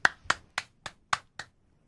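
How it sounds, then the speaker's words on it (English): A handful of sharp, evenly spaced claps from a small tabletop gaming group, six distinct hand strikes about a quarter second apart, close and crisp with quiet gaps between them and no voices. "The crowd cheers and claps"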